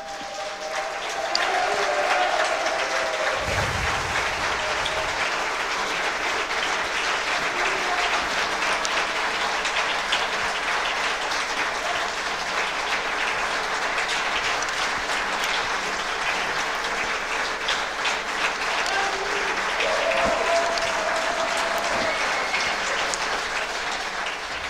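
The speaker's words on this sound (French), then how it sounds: "C'est des applaudissements bien mérités." Sustained applause from a large audience at a closing event, dense and even clapping that holds for the whole stretch, with a few brief low thumps and faint tonal sounds early and near the end.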